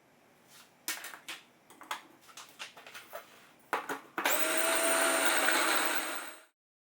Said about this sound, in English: Transfer the flour to the food blender.